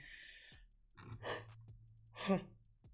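A man in a casual talk recording yawns twice, each a long breathy exhale with a voiced low drone, the first around the middle and a louder one near the end, close to the microphone with no speech.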